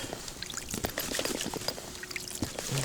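Cold water poured into a dark feeder groundbait mix during winter fishing, a close, soft trickling pour with small splashes running through the whole moment.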